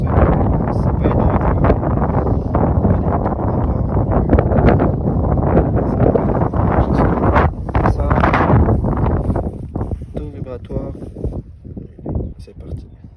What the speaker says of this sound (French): Un peu délicat avec le vent.